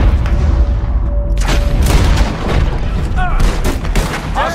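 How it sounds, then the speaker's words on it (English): A gunfight in Red Dead Redemption 2 rattles with loud, overlapping shots and heavy booms in a dense fusillade. Brief voices cut through the barrage. "We're getting shot up."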